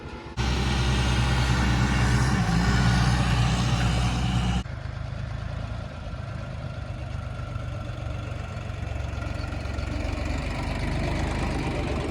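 A small mini tractor engine runs steadily and loudly while marking rows in a field, with a louder, harsher stretch at the start before settling into a lower, even idle-like drone.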